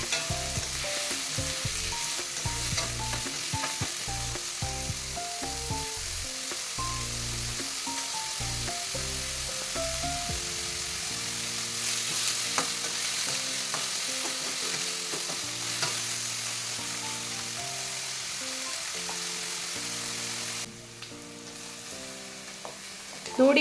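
Onions and green chilies fry in oil while a spoon stirs them around the pan. The loud scraping and clattering is rhythmic at first and settles into a steady sizzle, with no one speaking.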